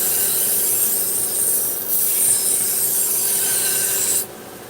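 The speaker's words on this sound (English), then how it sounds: "now I'm just going to do the sharpening of the final edge" A knife blade being sharpened to its final edge on a whetstone, a steady close rasping rub that runs almost continuously with a brief dip midway and cuts off near the end.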